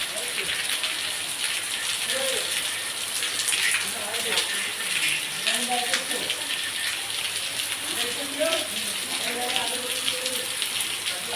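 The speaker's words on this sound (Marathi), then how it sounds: "पाऊस भरपूर चालू आहे" Heavy monsoon rain pours steadily outdoors near a hillside temple, a dense continuous hiss of drops drumming on surfaces, with a voice talking faintly underneath.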